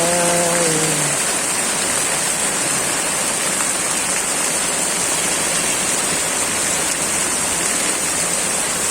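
Heavy, continuous rain pours in a dense, unbroken hiss, loud and close throughout, after a faint tonal sound fades away in the opening second.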